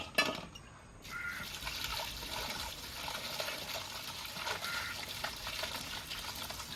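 Small mixed river fish are rinsed by hand in a bowl of water, a soft steady sloshing and trickling close by after a brief clatter at the start.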